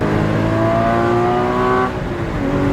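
A car engine revs hard with rising tones, then drops briefly on a downshift to second gear and climbs again, loud and close throughout.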